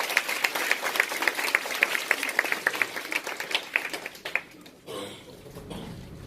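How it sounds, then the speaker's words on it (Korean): Audience applause at a business group gathering, a steady run of clapping from many hands that thins out and fades after about four seconds, leaving low room murmur. "우리 두 분께 감사의 박수 한번 쳐주세요."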